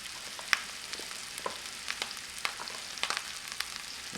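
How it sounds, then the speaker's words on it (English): Kale sautéing in a pan with softened onions gives a quiet, steady sizzle with scattered crackles and pops, close and alone without any voices. "So just add the kale a little bit at a time, and then it starts to wilt down."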